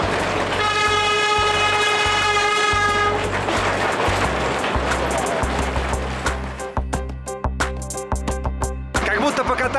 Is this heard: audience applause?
no